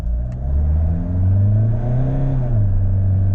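A Mahindra XUV700 in Zoom drive mode accelerates hard, its engine rising in a loud, continuous rev with a brief dip and shift near the end, heard close from inside the cabin.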